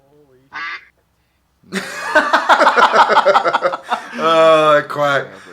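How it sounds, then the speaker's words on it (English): Ducks quack loudly and close by at a disc golf park, a brief call followed by a rapid run of harsh quacks and a longer drawn-out honking call, with no speech over them. "Oh, those freaking ducks."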